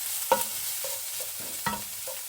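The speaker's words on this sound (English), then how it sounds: "You just stir them a bit until they get brown." Spices and garlic stirred in a frying pan for a salmon curry, with a few scraping spoon strokes over a faint steady sizzle, close and fairly quiet.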